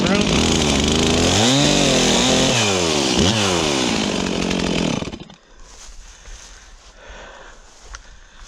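A Stihl MS362 and a ported Echo CS4910 chainsaw rip through poplar firewood, loud and close, the engine pitch rising and dropping repeatedly under load before the saw cuts out, leaving quiet outdoor rustling.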